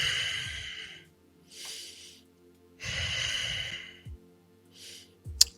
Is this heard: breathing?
yes